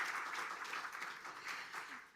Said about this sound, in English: So perhaps a round of applause to really appreciate all of this.